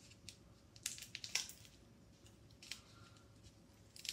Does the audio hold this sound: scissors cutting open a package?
yes